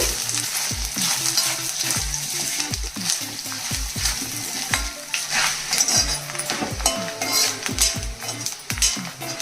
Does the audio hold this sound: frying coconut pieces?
yes